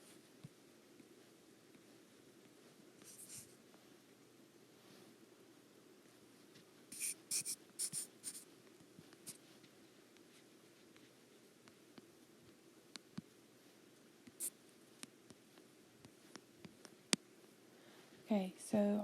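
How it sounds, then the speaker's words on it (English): Pen or marker writing words by hand, faint scratchy strokes in short bursts under a steady low background hiss, with a few louder taps and scrapes near the end. "I'm going to write these real quick."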